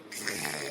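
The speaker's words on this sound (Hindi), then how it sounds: "आज ये लोग इतने खर्राटे ले रही हैं, इतने खर्राटे ले रही हैं कि मेरा तो सोना ही हराम हो गया" Someone in a Hindi cartoon household snores, a single short, soft, breathy snore heard on its own.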